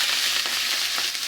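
Onions and dried chillies frying in oil in a wok, a loud, dense, unbroken sizzle heard up close and alone.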